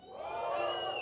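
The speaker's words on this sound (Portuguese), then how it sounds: "Mais forte o aplauso para Jesus." A church congregation applauds and cheers together in a worship service, a dense, fairly distant wash of clapping and voices lasting about a second.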